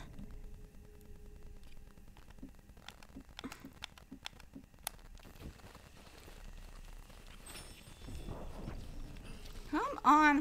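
Horse hooves clip-clopping in Red Dead Redemption II, faint, irregular footfalls under game ambience, with a voice speaking near the end.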